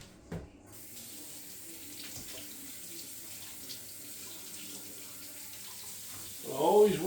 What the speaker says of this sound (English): I'll give them a quick rinse.